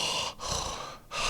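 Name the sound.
imitated heavy mouth breathing while sleeping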